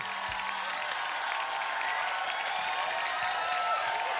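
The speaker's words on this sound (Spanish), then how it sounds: "Aplauso para el número 3" A television studio audience on a Saturday variety show applauds steadily in a dense, even wash of clapping, with a short low tone at the start.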